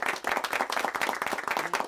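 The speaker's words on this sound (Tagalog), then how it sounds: "pwede ba natin palakpakan si God?" Applause from a worship audience, with steady dense clapping throughout that sounds like a crowd of hands beating close together at an even level.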